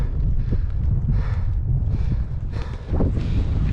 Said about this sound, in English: It's starting to get really windy now